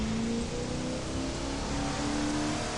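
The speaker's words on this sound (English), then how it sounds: "This car sounds so damn good" A car engine in the racing game The Crew 2 hums steadily with a sustained tonal drone over broadband road or rain-like noise, loud and continuous for the whole stretch with no talk.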